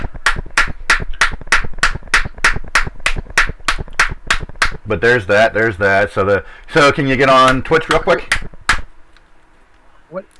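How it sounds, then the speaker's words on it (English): A hand slaps a cigar pack again and again to pack the cigars, producing a fast, steady train of sharp claps close by. Voices talk over the middle stretch before the claps stop abruptly and quiet follows. "Yeah, I'm clapping. I'm packing my cigars."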